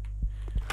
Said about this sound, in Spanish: se escucha unos latidos también